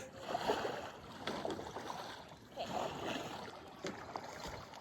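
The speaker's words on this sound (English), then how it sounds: "We out here paddling our wieners off." Canoe paddles dipping and pulling through lake water on a large lake during a long-distance paddling race, with soft rhythmic swishes and splashes at close range over a steady wash of water.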